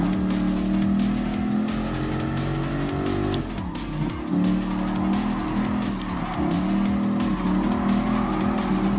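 Race cars including a Dodge Viper roar through a Gran Turismo Sport race, engines droning steadily with shifting pitch and bursts of tire squeal, loud and continuous throughout.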